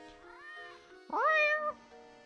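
A cat meows twice in the Professor Layton and the Curious Village game, a softer drawn-out call followed by a louder, clearer one, close and alone without talk.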